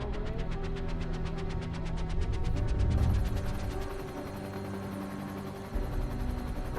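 Helicopter taking off in the game DayZ, a loud throbbing rotor chop over a steady engine hum, its pulsing pitch shifting as it spins up, continuous and close.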